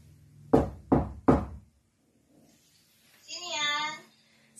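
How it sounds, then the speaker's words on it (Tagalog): Three firm knocks on a house door, close and loud in quick succession, followed after a short pause by a voice calling out. "Ito po yung kanilang pintuan. Kakatok po ako, ha?"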